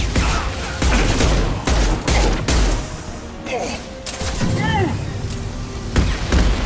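Bursts of gunfire in the Mass Effect video game, rapid repeated shots and thuds in dense volleys across the whole stretch, loud and close, with faint chirping effects mixed in.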